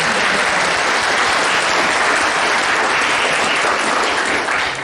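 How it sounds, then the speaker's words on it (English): A conference audience applauds a handmade art-to-wear shirt. The clapping is loud, close and continuous, holding at an even intensity for nearly five seconds before easing slightly at the end. "Applaud for the shirt"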